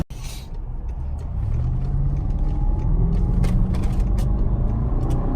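A 2005 BMW 645ci with a 4.4L V8 accelerates, heard from inside the cabin. A low engine rumble builds and holds steady, and someone says a single word over it.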